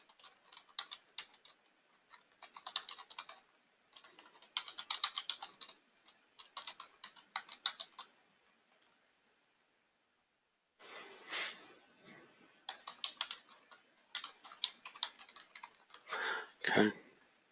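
Computer keyboard typing during a coding session, with bursts of rapid, close key clicks broken by short pauses and a longer gap before more typing.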